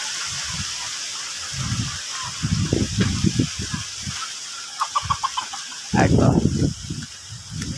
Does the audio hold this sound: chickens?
yes